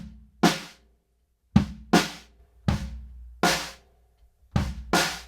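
Compressed room-mic drum hits with a stretched-out snare: seven loud, punchy strikes in an uneven groove, each a full-band crack trailing into a sustained, roomy decay, with no voices.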